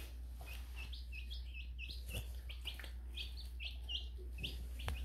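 Baby chickens peep in a rapid run of high, bright chirps that overlap one another, fairly close, over a steady low hum, with no talking.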